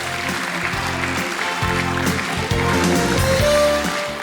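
An audience at a student theatre festival claps loudly and steadily, a dense sustained applause filling the hall from start to finish.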